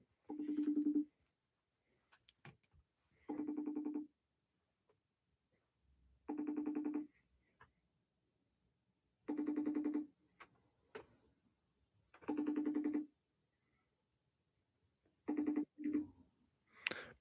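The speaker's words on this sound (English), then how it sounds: "We'll just give him a FaceTime call." A FaceTime call rings out with repeated bursts of the ringtone, each about a second long and spaced roughly three seconds apart, clear and close, with faint clicks in between and no talk.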